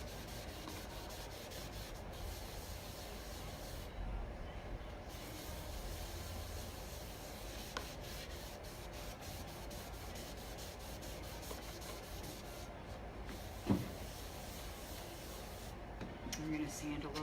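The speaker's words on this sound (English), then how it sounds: "I'm going to sand a little more because I got to redo this one anyway." Steady, continuous rubbing of sandpaper on a surface, a dry scratchy hiss that runs throughout at low volume with a brief knock near the end.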